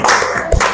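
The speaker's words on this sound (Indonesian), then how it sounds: "Tepuk tangan buat kalian semua." A classroom of students claps together in one loud, dense burst that fills the short moment with no talk.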